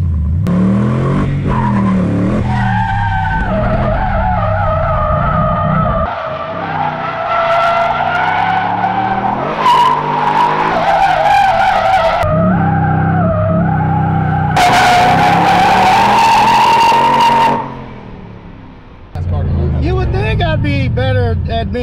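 A Ford Mustang RTR does a burnout, its engine roaring loud and close while the tires skid and squeal in long continuous bursts, with people talking over the noise.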